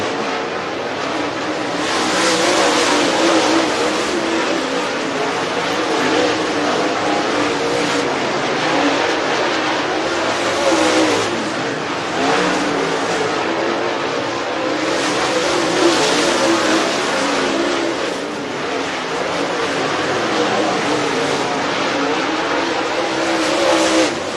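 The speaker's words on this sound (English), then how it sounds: "Cars coming up to speed." Modified race cars coming up to speed at Duck River Raceway Park, a loud, sustained roar of several engines revving and surging past, with tire noise and rising and falling intensity throughout, no talking.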